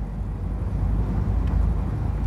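A Ford Mustang GT with active flap exhaust in race track mode rumbles steadily at idle, a deep continuous low burble close by with slight pulsing.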